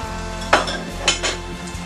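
Risotto being stirred in a pot, with a few soft scraping and clinking strokes of a spoon against the pot over a steady low kitchen background.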